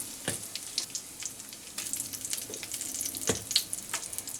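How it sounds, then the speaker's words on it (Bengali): Cumin seeds and dried red chilies fry in hot oil in a home kitchen, giving a soft steady sizzle with a few sharp crackles and pops spread through, heard alone. "ওই তেলে দিয়ে দেব হাফ চামচ জিরে, গোটা জিরে, আর দেব শুকনো লঙ্কা"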